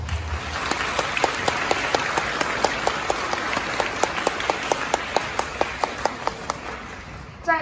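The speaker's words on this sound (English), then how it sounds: "Please give a round of applause to our school supervisor, Mr. Yao, and teachers." Graduation-ceremony audience at a Catholic primary school applauding the school supervisor and teachers: steady, dense clapping from a hall full of people, with several sharp, louder claps standing out at regular intervals throughout.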